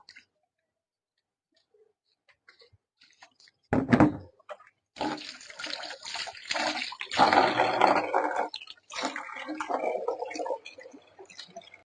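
Water poured into a container to dilute liquid fertilizer made from vegetable peels and jaggery, a broad splashing pour in several bursts after a quiet start, close by.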